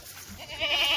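A brief, nasal bleat from a Kathiawari goat rises close by over a low background murmur, lasting about a second.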